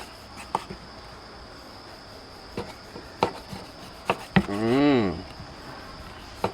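A knife slices a lime on a cutting board in a few separate, sharp strokes, with a brief squeaky scraping sound near the end.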